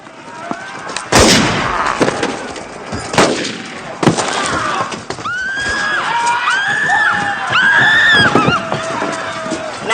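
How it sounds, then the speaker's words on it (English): Several loud, sharp gunshots crack out one after another at close range in a church setting. Horses whinny and shrill cries follow in the chaotic aftermath. "Shoot him, Smithers."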